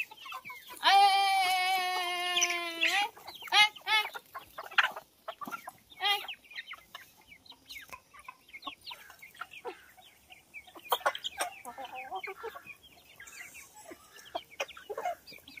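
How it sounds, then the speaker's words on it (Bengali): Free-range desi hens cluck loudly up close at a home being fed, opening with a long, drawn-out cackle followed by scattered clucks and short calls that continue irregularly. "এখন মুরগিদের খেতে দেবো। কতগুলো মুরগি দেখুন আমাদের বাড়িতে।"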